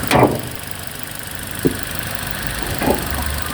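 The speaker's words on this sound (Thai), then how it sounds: "ตอนนี้ผมติดเครื่องยนต์อยู่นะ" A 2019 Toyota Altis 1.6G engine idles with a low, even hum, broken by a few brief knocks or clicks, heard up close with no talking.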